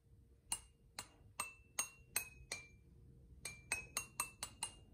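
A series of bright glassy taps from a paintbrush on a water-filled glass jar, five evenly spaced strikes, a pause, then five quicker ones, each with a short ringing tone.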